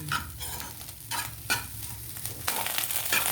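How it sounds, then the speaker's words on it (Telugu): Fish eggs frying in a pan give a steady close sizzle, with the spoon stirring and scraping in repeated strokes throughout. "అడుగు అంటకుండా జాగ్రత్తగా ఫ్రై చేసుకోవాలి"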